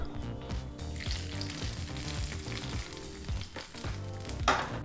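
Ghee-fried cashews go into a hot pan of poha khara pongal, which sizzles loudly and close, with stirring scrapes and a brief louder burst near the end. No one talks.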